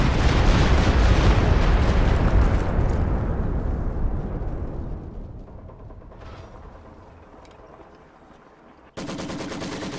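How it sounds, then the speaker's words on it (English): A Stuka dive bomber firing in a video game: a loud, dense roar of gunfire that slowly tapers and thins over several seconds, then cuts abruptly back to a strong, steady rumble near the end. "Stuka firing."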